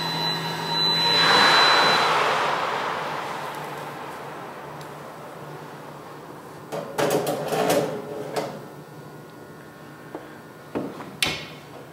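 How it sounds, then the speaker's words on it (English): A Cadco commercial oven hums along with a rising whoosh of air, then the door is opened and shut, producing a cluster of clunks and a final latch click, with no talking. "Once you open and close the door, your program will automatically start."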